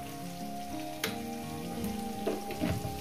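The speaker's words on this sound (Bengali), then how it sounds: "পেঁয়াজটাকে মিনিমাম আমি 2 মিনিট ধরে ভেজে নেব" Chopped onion fries in a pan with a soft, constant sizzle, broken by a few louder crackles and scraping stirs, close and moderately quiet.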